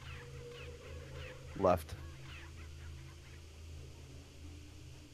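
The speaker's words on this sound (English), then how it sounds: "The fuck is up with these chickens? They're inside the typewriter room right now." Chickens in the video game Resident Evil 4 give one short, loud squawk in a room with a typewriter, set against a quiet, humming game background. Someone speaks briefly nearby.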